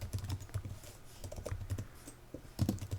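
Soft, rapid typing on a computer keyboard, a faint uneven patter of key clicks with no talk.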